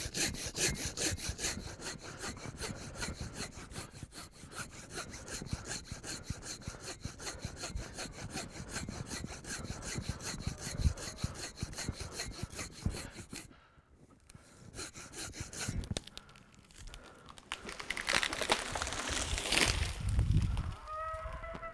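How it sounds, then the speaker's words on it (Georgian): A hand saw cuts dry firewood in loud, steady back-and-forth strokes, close by. The strokes run continuously for a long stretch, stop briefly, then resume in rougher bursts. "ამ ხელა ზომის შეშის დასამუშავებლად ყოველთვის ჯობია ვიხმაროთ სათანადო ზომის ხერხი"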